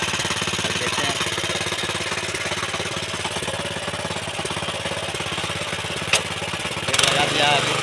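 A mini tractor engine running in a field, stuck in the ground: a loud, steady rattling chug throughout, with a brief knock and a louder burst near the end.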